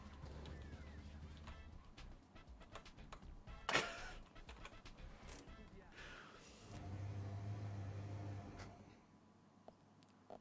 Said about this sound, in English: it sounds like a washing dryer when we start up the Jeep